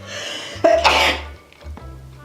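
A single loud, close sneeze bursts out with a sharp explosive release after a brief intake, followed by quiet breathing.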